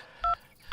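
A telephone number is dialed, producing two short, close, clear keypad tones with a brief gap between them.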